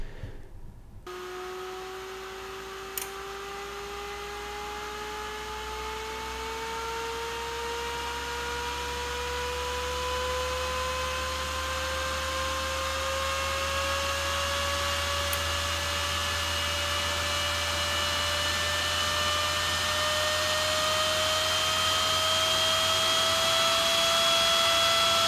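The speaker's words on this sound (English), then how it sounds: "this particular fan back in the day almost got me banned from a LAN. It runs at 5000 RPM full tilt" A 5000 RPM computer case fan spins up to full speed, a loud whooshing whine whose pitch climbs steadily and then holds, running alone without speech.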